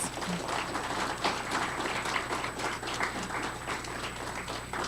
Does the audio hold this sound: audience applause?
yes